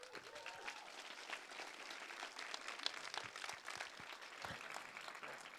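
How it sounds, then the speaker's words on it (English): A conference audience claps at closing remarks, a faint, even patter of many hands sustained for several seconds without speech over it. "Can you give her a round of applause"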